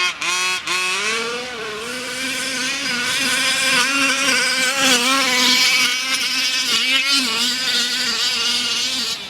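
Loud high-pitched engine whine of a nitro-alternative RC car running nearby, revving up and down continuously in a buzzing, insect-like drone with no talk.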